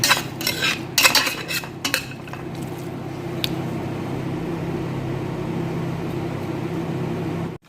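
A utensil stirs and scrapes through marag, an Arabian vegetable dish, in a metal pot, with a few clinking knocks at the start before settling into a steady close scraping and bubbling.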